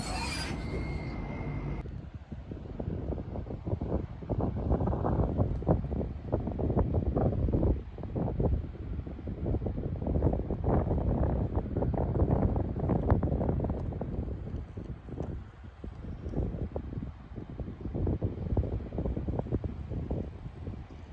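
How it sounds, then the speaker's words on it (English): Wind buffeting a microphone by the seaside, a steady loud rumbling roar with gusty fluctuations throughout, after a brief higher-pitched sound at the very start; no talk. "Tried to save you from having the wind noise by doing the video in the shelter"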